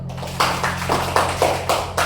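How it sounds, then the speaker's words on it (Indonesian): A classroom group claps in a steady, rhythmic beat for the first group of students, about seven even bursts over a low electrical hum. "berikan tepuk tangan untuk kelompok 1"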